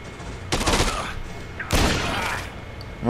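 Two loud, close bursts of shotgun fire in the zombie video game Dead Rising 2, each a broad blast with a ringing tail, spaced about a second apart.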